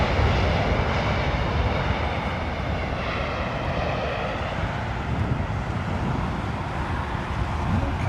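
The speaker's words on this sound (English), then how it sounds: "now we have a regular Atlas 747 from Anchorage" An Atlas Air Boeing 747 from Anchorage coming in to land at London Heathrow in wind and rain, a loud continuous jet engine roar with heavy low rumble and wind buffeting, steady for the whole stretch.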